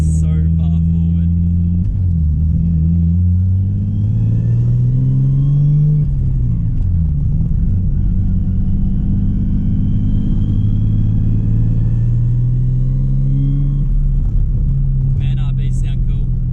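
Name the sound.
Nissan R33 Skyline RB engine running and revving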